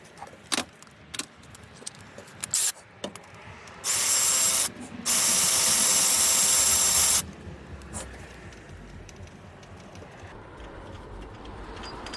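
A ratchet wrench works loose a 17mm starter motor bolt on a 2001-2004 Honda CR-V, with a few sharp close clicks followed by two long, loud hissing mechanical bursts and quieter rattling afterwards.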